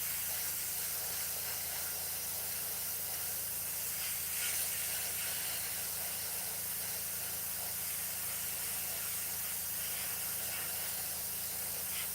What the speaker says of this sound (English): basically locking everything in with the airbrush